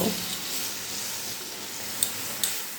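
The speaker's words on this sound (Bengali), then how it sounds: "এবারে গ্যাসের ফ্লেমটা মিডিয়ামে রেখে এই মশলাটা তেলের সঙ্গে একটু কষিয়ে নেব" Spice paste sautéing in oil over a medium gas flame for a fish curry, a continuous even sizzle with a couple of sharp spatula clicks near the end, close and steady.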